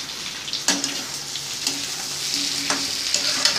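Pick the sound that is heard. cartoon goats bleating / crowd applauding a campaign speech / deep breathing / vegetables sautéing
vegetables sautéing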